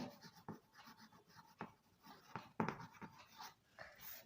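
Marker or chalk strokes on a classroom board during an algebra lesson, a series of faint scratchy taps and scrapes recurring every second or so, with no talk.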